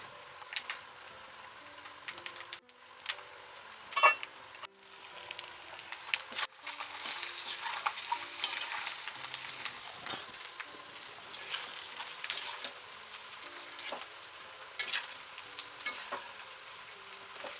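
Telugu-style chicken fry with fresh coriander frying in a pan: a continuous, fairly soft crackling sizzle with scattered pops and clicks throughout, no voices.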